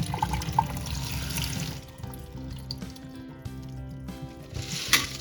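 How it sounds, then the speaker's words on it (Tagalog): Tap water runs steadily into a jar of mung beans during rinsing, a close continuous splashing flow with a few drips and sloshes, and no one speaks. "And refill the water until 3/4 fill of the jar."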